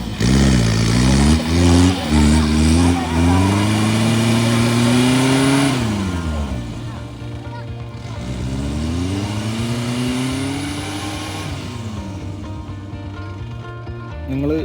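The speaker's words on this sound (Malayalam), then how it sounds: "മഹീന്ദ്രയുടെ എഞ്ചിൻ എന്ന് പറഞ്ഞു കഴിഞ്ഞാൽ അതും ടർബോ എഞ്ചിനാണെങ്കിൽ ഒന്നും പറയാനില്ല" A Mahindra turbo-engined 4x4 revs hard on an off-road track, its engine note climbing and falling in two long surges close by, with other engines and faint voices in the background.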